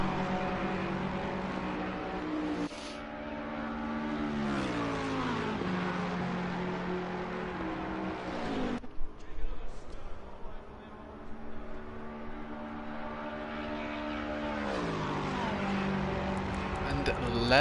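GT3 race car engines, a Ferrari chasing a Lexus at Paul Ricard in a racing game, hum and shift pitch steadily through the stretch, rising and falling as gears change, underneath continuous commentary.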